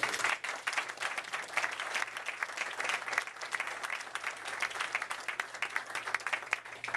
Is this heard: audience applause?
yes